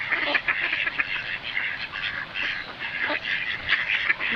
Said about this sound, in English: quick those ducks are